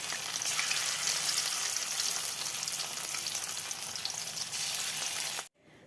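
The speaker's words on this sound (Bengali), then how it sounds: "এই জন্য এই যে তেলের বড়াটাই আগে ভেজে নিচ্ছি" Fish oil fritters (macher teler bora) frying in a pan of hot oil give a loud, steady, close sizzle that runs unbroken for several seconds, then stops abruptly at the end.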